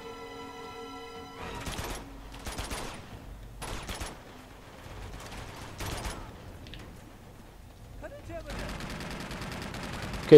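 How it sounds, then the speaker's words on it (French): In the Uncharted 2 video game, enemies open fire in repeated bursts of gunfire at moderate volume, spaced apart and separated by short gaps, with a player's voice talking over parts of it. "il y a tout le monde qui tire"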